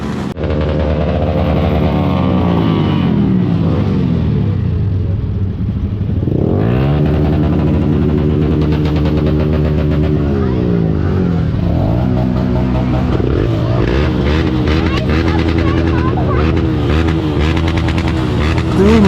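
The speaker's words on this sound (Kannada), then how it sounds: "ಮಕ್ಕಳಿಗೆ ಬೈಕ್ ಎಕ್ಸಾಲ್ಟ್ ಸೌಂಡ್ ಅಂದ್ರೆ ಫುಲ್ ಖುಷಿನ ನೋಡ್ರಿ" Loud, close motorcycle engine revving repeatedly, the exhaust note rising and falling in pitch through several throttle blips over a steady rumbling idle.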